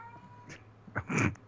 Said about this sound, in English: And a cat. Who does not sound happy.